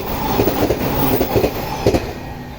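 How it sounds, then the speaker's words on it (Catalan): A train rolls along railway tracks right beside houses near a station, a loud close rumble with rhythmic clickety-clack of wheels over rail joints throughout. "com podeu veure les cases estan a tocar de l'estació, de les vies, i ja passa un tren"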